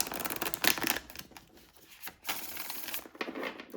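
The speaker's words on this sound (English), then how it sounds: "I'm just gonna shuffle one more time." A deck of tarot cards is shuffled by hand, with repeated bursts of riffling and sliding card noise, close and fairly quiet, and no talk.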